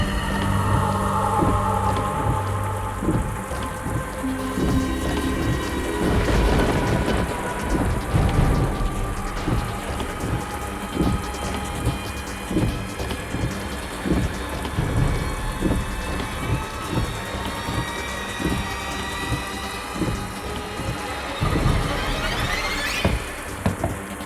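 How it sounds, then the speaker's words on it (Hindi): Heavy rain pours continuously in a thunderstorm, dense hiss of drops on surfaces with rolling rumbles of thunder recurring throughout, loud and steady with no talk. "इतनी तेज बारिश हो रही है"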